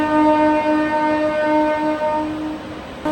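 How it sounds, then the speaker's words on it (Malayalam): A hydrogen-powered passenger train pulling out of Jind Junction sounds a long, loud, steady horn blast, tonal and sustained for about three seconds, close by with no talk. "അങ്ങനെ നമ്മുടെ ഹൈഡ്രജൻ ട്രെയിൻ അങ്ങനെ ജിന്ദ് ജംഗ്ഷനിൽ നിന്നും കറക്റ്റ് 7:40 പുറപ്പെടുകയാണ് കേട്ടോ."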